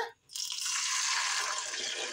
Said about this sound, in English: pour it right in the pan just like that